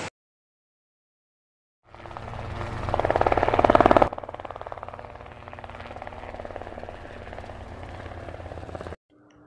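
A helicopter starts up and takes off, its rotor thudding in a steady rhythmic chop that swells loud and close, then holds at a slightly lower level before cutting off abruptly.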